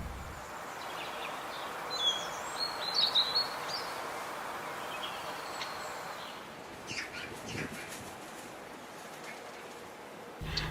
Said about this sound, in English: I'm just going to sit here, enjoy the bird singing, and enjoy the sunset.